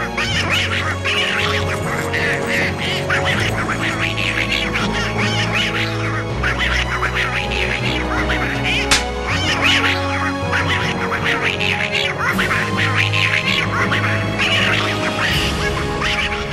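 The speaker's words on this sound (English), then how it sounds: "the Donald Duck sound effects" Donald Duck-style quacking effects in an anime soundtrack mix, repeated raspy quacks running steadily over loud music with low background tones.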